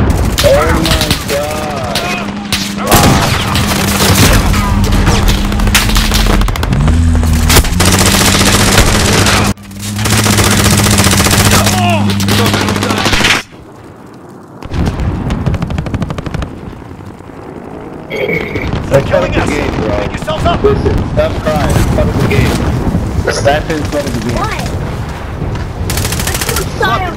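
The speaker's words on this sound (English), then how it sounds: "they're shooting at me. And you can tell I'm shooting." Rapid gunfire and machine-gun bursts from Call of Duty: Modern Warfare rattle loudly and almost nonstop, with booms and a brief lull midway, while a player talks excitedly over the shooting.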